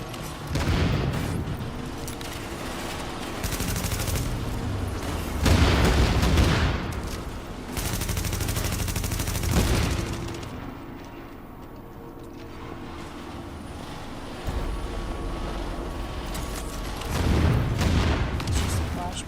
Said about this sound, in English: Just a flashbang, not too worried about that.